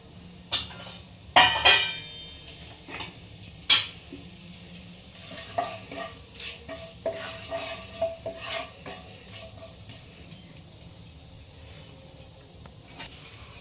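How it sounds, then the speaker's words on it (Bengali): Whole cumin seeds dropped into hot oil for tempering in a pan, with a few sharp clinks of a spoon at first, then a faint, steady sizzle. "ছোট চামচের 1 চামচ দিয়ে দিলাম জিরে, গোটা জিরে ফোড়নের জন্য।"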